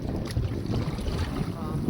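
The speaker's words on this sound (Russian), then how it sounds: "Но сегодня вот этот ветер ярко выражен" Strong autumn wind on open water under a blue sky, heard as a steady low buffeting roar with wind noise across the microphone, constant and close throughout.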